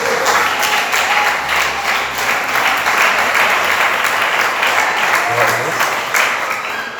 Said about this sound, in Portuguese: dá uma linda salva de palmas para o Senhor Jesus